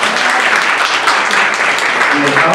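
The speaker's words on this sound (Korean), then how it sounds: "발표해주신 팀에게 박수 부탁드리겠습니다" An audience clapping for a presenting team at a startup weekend final pitch event, steady dense applause filling the room throughout with a voice faintly audible beneath it.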